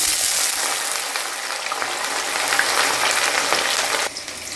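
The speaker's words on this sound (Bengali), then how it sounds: "এবার আমি কড়াইতে পেঁয়াজটা দিয়ে দিচ্ছি।" Onion frying in a hot kadai for chira pulao, a loud, dense sizzle that hisses steadily for about four seconds before dropping off sharply near the end.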